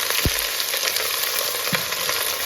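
Onion and green chilli frying in a pan, a steady dense sizzle running throughout, close and moderately loud, with a couple of faint low knocks.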